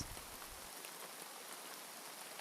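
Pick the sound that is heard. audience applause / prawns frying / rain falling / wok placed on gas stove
rain falling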